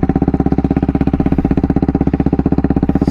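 A KTM Duke 390 with its underseat exhaust removed idles loudly and close by, a steady rapid rough thumping pulse throughout with no talk.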